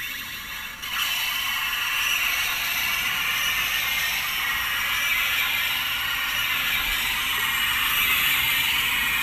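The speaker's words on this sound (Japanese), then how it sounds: "そしてもう一回押すと合体待機音ですね。 あの電気がビリビリ出てる時の音鳴らします。" A DX Chogokin Combattler V toy gives off its electric combining standby effect, a loud, steady crackling electric buzz that holds unbroken throughout after a brief quieter start.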